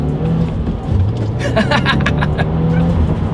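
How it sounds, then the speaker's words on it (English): A 2020 Subaru WRX with a manual transmission accelerates hard, its engine rumbling steadily and climbing through the revs for a few seconds, with someone talking over the drone from inside the car. "let's do a quick little acceleration"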